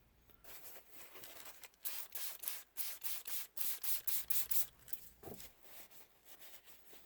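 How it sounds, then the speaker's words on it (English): Paper towel sprayed with alcohol rubbed briskly over an RC car shock absorber to clean off dirt and grime, a rapid run of close, loud scrubbing strokes in a steady rhythm with no talk. "I'm going to take some alcohol, spray it on a paper towel, wipe down the shock, clean all the dirt and grime off of it"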